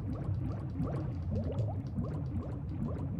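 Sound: character in water in the video game Sphinx

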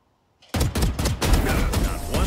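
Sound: gunfire from the video game Valorant

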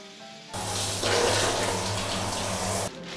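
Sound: aroma water poured onto sauna stones

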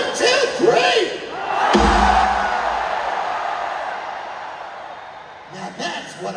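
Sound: concert crowd cheering and shouting at a show

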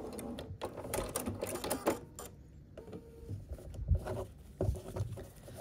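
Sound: sewing machine stitching quilt fabric pieces

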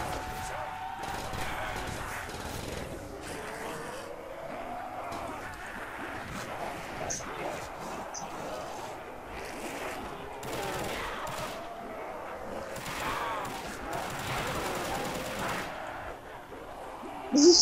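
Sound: turret gunfire in Custom Zombies video game

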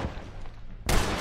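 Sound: gunshot in the video game Red Dead Redemption

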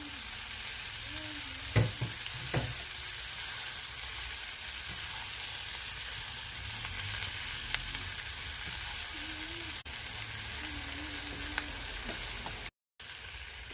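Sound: tomatoes, peppers and chilies cooking in a pan

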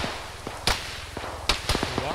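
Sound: gunfire in a military video game

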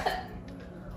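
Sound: small cough

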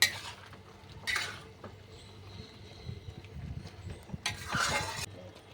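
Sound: mixing salt, turmeric and sugar with fish heads

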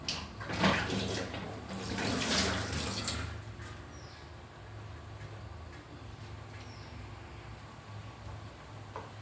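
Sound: water being poured into cooking pot

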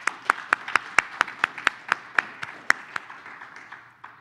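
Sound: audience applause

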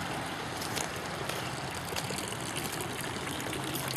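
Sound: bamboo fountain trickling water into a small bowl

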